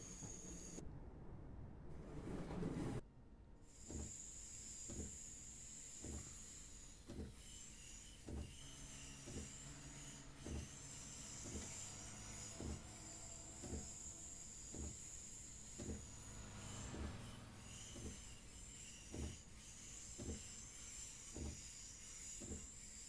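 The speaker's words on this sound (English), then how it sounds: "I'm actually on a Deutschbahn train on the Birmingham University route." A Deutsche Bahn train runs on rails along a Birmingham University route, heard from onboard: a sharp clunk and hiss early, then a steady rhythmic clack of wheels over rail joints under a constant hum and high whine.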